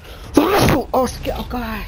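A single close, loud sneeze bursts out, and a person then speaks briefly right after it.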